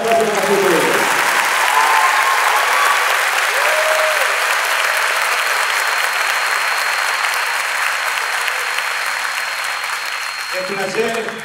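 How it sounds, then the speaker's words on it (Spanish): Sustained audience applause at a symphonic concert by the OSG orchestra, a dense steady wash of clapping that holds loud for about ten seconds, with brief speech at the start and end. "Un fuerte aplauso para ustedes."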